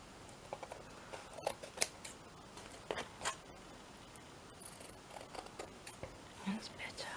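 Scissors snip through a canvas-board journal cover, a quick run of close, crisp cuts interrupted by soft breathy rustles, near and fairly faint.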